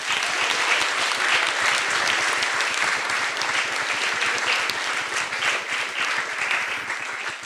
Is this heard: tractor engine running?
no